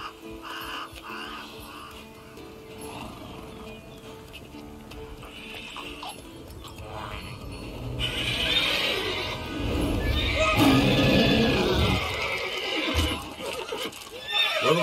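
Roach the horse in The Witcher 3 video game: a loud whinny and clip-clop of hooves over game ambience with crows cawing, with a voice speaking briefly.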